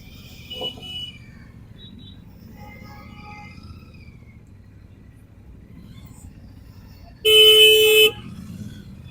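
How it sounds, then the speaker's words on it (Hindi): A Royal Enfield Classic 650 motorcycle sounds one loud, steady horn blast of just under a second near the end, over low engine and road rumble. "हॉर्न अच्छा नहीं है"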